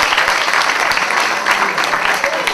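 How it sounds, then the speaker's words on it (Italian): Citizens at a municipal election meeting in Perano applaud warmly, a loud, sustained patter of many hands with a few louder individual claps and faint voices beneath. "vedete, questi applausi ci fanno veramente tremare l'anima"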